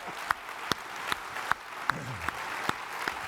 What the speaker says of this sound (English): Guys, give another round of applause for Tim.